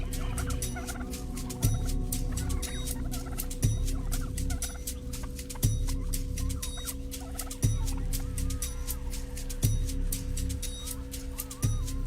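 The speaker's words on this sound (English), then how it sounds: "Commonly found throughout the Australian states of Queensland and New South Wales, from bushland to suburbia, is the often annoying and always confronting brush turkey." An Australian brush turkey calls in a regular pattern, giving a low, booming gobble-like note about every two seconds over a steady background hum, moderately close.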